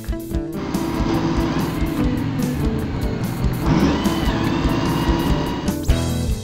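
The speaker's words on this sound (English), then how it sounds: "This here's a dump truck." A dump truck engine runs loud and close, a continuous throaty rumble that swells as it revs partway through, then cuts off sharply just before the end.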